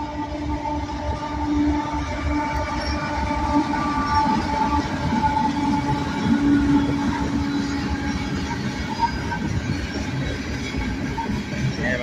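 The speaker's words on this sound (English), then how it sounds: "Ooh, refrigerator box cars. Cryo trains." A freight train with refrigerated box cars rolls past, its steady low rumble and rail noise continuous and loud throughout.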